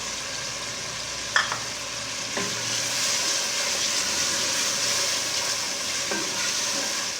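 Masala with green chillies fries in a pan, making a continuous close hissing sizzle with a few light clinks of stirring and no talk.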